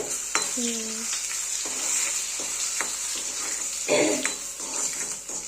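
Bhesua leaves frying in a hot pan in a home kitchen, giving a steady sizzle with a few clanks of stirring, close and moderately loud, without talk.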